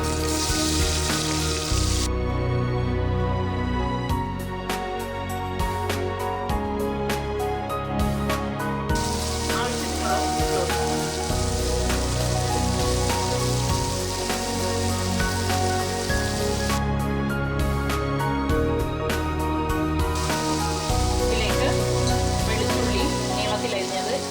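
Chopped onions fry in a hot pan for a chicken roast, a loud, continuous sizzling hiss with crackles that runs throughout, under background music.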